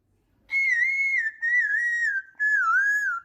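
An Amazon parrot whistles three clear, bright, sustained tones in succession, each with slight wavering pitch, close and loud against silence.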